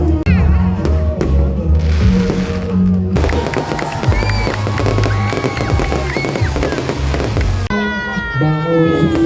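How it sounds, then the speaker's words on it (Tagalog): Fireworks crackle and pop amid a lively crowd at a Christmas plaza celebration in Iriga, Philippines, with voices and cheering over tonal music-like sounds throughout. "ang pa-fireworks nga po na sobrang gaganda"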